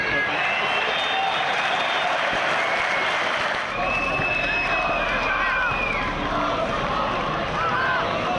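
A sports team applauds and cheers together before a Poland versus Slovenia match, giving a dense, continuous burst of clapping and crowd noise with some voices mixed in.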